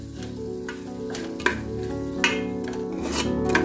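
Mixed vegetables with garam masala roast in a pan for a home-style biryani, a steady frying sizzle broken by a few sharp spoon scrapes as they are stirred, with background music running underneath.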